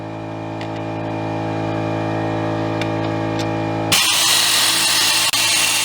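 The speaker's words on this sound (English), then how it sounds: "Here's Allison using the air wrench." An air impact wrench re-torquing new injectors on a 7.3 diesel engine, a loud steady droning whine that breaks abruptly into a harsh, noisy hammering rattle near the end.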